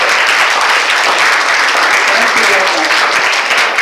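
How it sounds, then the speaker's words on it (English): Sustained, loud applause fills a seminar hall as the audience claps continuously, a dense even wash of hands with no pauses. "Only this time you are clapping"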